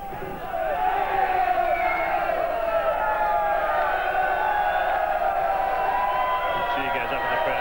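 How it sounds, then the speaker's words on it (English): Stadium crowd at a 1988 rugby league match between Western Division and Great Britain in Australia, roaring and cheering in a steady, loud, sustained swell, with whoops rising out of the mass of voices. "Cheer goes up in the crowd also as possibly a change coming on for Western Division"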